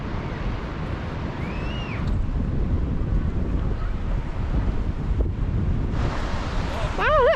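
Strong sea wind roars across the microphone on Swansea seafront, blowing sand along in a constant buffeting rumble, with faint voices and a brief tonal sound near the end.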